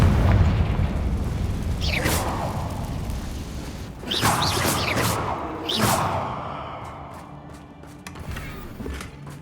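A Confringo blasting spell fired in the Hogwarts Legacy video game, inside a mine full of Ranrock's loyalists: several deep booming explosions with whooshing bursts, repeating every couple of seconds over a dense rumbling background.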